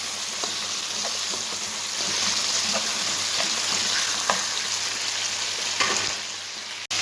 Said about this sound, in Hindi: ये देखिए हमने टमाटर ऐड कर दिए। अब हम इन्हें अच्छी तरह से भून लेंगे तेज आंच पर।